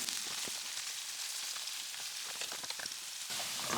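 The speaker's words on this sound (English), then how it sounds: "Now I'm going to flip the tempeh so it cooks evenly on both sides." Tempeh frying in a pan with a steady soft sizzle and faint crackling pops. The sound is constant, fairly quiet and close, and no one speaks over it.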